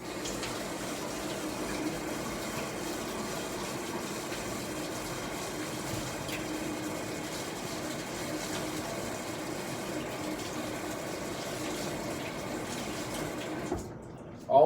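Water runs steadily from a kitchen tap while produce is washed, a constant close hissing gush lasting throughout before cutting off abruptly at the end.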